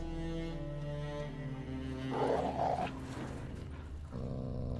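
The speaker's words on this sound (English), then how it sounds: "Just beware of the dogs." Dogs growling inside The Witcher 3: Wild Hunt, layered over a steady game music bed and rising into a rougher snarl midway through, no talk.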